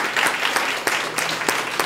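Audience applause for Dr. Lundy at a lunch-and-learn talk, a short burst of many hands clapping in a room, steady and fairly close, with a few sharper claps standing out.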